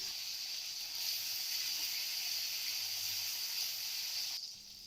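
Chopped tomato hitting hot oil tempered with dried chilli and whole cumin, giving a steady, loud broadband sizzle that holds evenly for several seconds before dropping off abruptly near the end.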